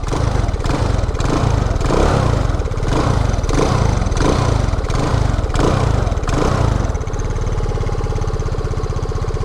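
A small SYM Jet 14 200i scooter engine runs loudly up close, pulsing through several quick rev surges before settling into a steady, putt-putting idle.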